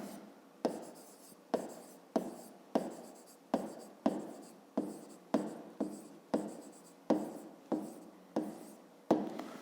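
A pen writes by hand on paper close to the ear, with steady scratchy strokes repeated in a regular rhythm about every half second to second, each stroke starting sharp then fading.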